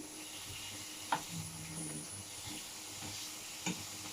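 Potatoes and carrots cook in a frying pan with a steady, soft sizzle and hiss throughout, broken by a couple of brief stirring scrapes; no one speaks.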